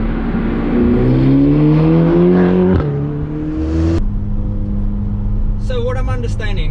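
Ferrari Portofino engine revving hard under full throttle, pitch climbing steadily through a gear, then dropping and building again, loud and close, with a voice talking briefly near the end.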